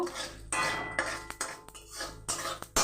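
Dried chili and mustard seeds stirred in a hot wok, a busy sizzle broken by repeated sharp ladle scrapes and clinks against the metal, close and with no talk.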